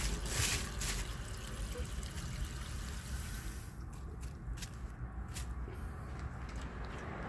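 A 1966 Nationaline toilet flushing while trying to clear a washcloth and a grocery bag, a steady close rush and trickle of water running throughout with no talk.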